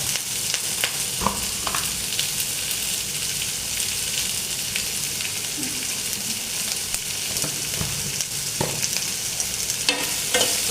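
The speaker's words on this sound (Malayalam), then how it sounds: "ഇനി നമുക്കതൊന്ന് ചെറുതായിട്ടൊന്ന് മൂപ്പിക്കാം. അതിനകത്ത് ഒരു ശകലം ഉപ്പിടാം," Chutney ingredients sauté with a pinch of salt in a pan, giving a soft, steady sizzle with occasional stirring scrapes and clinks, fairly quiet and close, with no talking.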